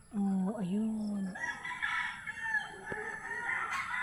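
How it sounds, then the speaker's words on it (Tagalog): A rooster crows nearby, followed by hens clucking, with faint voices in the background. "Ito na may mga manok. Ayan, mga manok."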